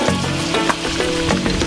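Teriyaki sauce sizzles in a pan with ground turkey for Korean turkey teriyaki bowls, a loud steady crackling fry close by with light stirring taps.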